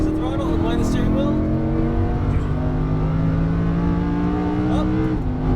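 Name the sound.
Lamborghini Huracán accelerating on race track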